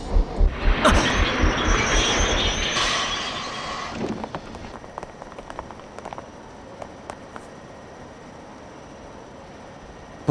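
A subway train in the PS2 game Blood: The Last Vampire rumbles loudly at first with rhythmic rail clatter, then fades into quieter scattered clicks and knocks as it slows or recedes.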